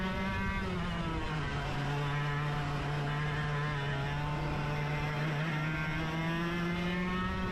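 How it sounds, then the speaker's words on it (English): A 100cc racing go-kart screams past at speed during a practice session, its high engine note steady and loud, then dipping slightly in pitch as it passes close by, with no talking. "He's in a 100cc kart. And he's going to just fly past me here."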